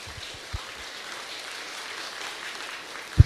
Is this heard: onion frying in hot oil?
no